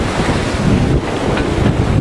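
Strong wind and breaking waves buffet a Gemini catamaran under sail, a steady loud roar of gusting wind on the microphone with wash and surf sounds throughout, no voices.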